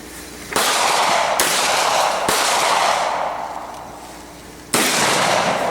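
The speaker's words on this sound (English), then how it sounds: "You had to shoot so many targets when you hit the second." Shotgun blasts at an outdoor shooting range: four loud, sharp reports, each followed by a long ringing decay, with the last shot arriving after a longer pause.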